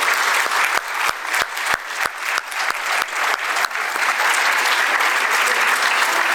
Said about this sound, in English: Let's hear one more round of applause for all of our past laureates attending this evening.